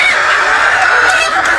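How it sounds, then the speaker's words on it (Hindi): Dense clucking of about 800 chickens packed into a low-cost poultry farm shed, a steady continuous flock chatter with no voices over it. "हमारे फार्म में मुर्गी पी रही है ये 800 मुर्गी है"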